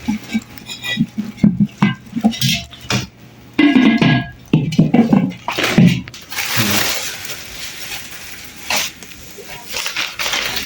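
Two clay cooking pots are handled, giving a run of close knocks, clinks and scrapes that come in short bursts. A voice is heard talking in the middle section, and the handling sounds carry on after it.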